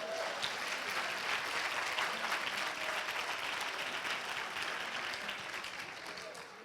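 An audience at a training presentation gives sustained, even applause, a dense wash of clapping that holds steady and then tapers off slightly toward the end.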